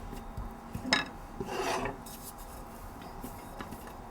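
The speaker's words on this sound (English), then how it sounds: "Roll it into a ball, flatten it out, and just roll it into a circle." A rolling pin presses over samosa dough in a kitchen, giving a couple of soft, close scraping rolls followed by quieter rubbing.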